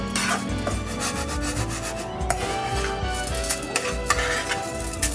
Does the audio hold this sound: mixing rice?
yes